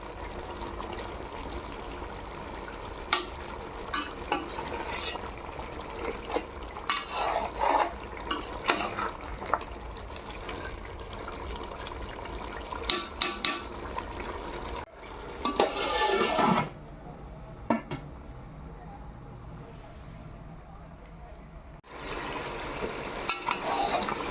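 Mutton masala for biryani frying in a pot with a little released water cooking off, stirred now and then; a steady close sizzle runs throughout, broken by scraping spoon strokes and short pauses, with no talk.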